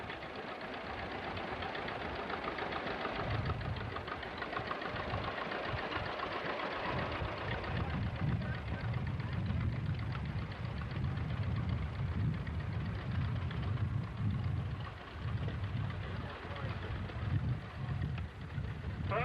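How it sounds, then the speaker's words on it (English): Rhythmic low chugging and knocking of a John Deere tractor engine driving in a small-town parade, steady and fairly close throughout, with a continuous mechanical clatter over the rumble. "Is driving a John Deere here."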